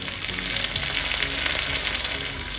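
Sliced shallots and curry leaves sizzle in hot oil with mustard seeds for an Onam yam erissery, a loud, dense, continuous frying hiss with faint crackles, no voices.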